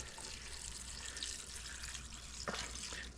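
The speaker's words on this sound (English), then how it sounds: "Now we're going to add chicken stock." Chicken stock pours into a soup pot for potato and leek soup, a faint steady liquid splashing with a brief louder gurgle near the end.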